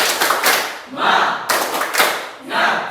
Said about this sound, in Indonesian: Tepuk semangat, kuat suaranya.